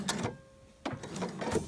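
A home sewing machine runs two stitches on a Liberty fabric shirt: two short mechanical whirring bursts separated by a quiet pause, close and soft.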